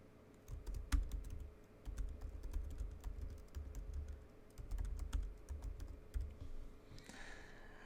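Rapid, steady clicking of keys on a computer keyboard, close and fairly quiet, continuing for several seconds before stopping.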